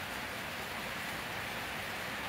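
Rain falls steadily in Sylhet, a dense, even wash of hiss that stays faint and unbroken throughout, with no voices.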